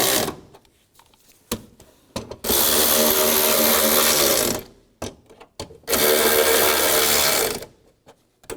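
Loud powered ratchet or impact tool runs in two sustained bursts, with short clicks and clanks between, tightening bolts on the battery tray of a 1999-2006 Chevrolet Silverado 1500.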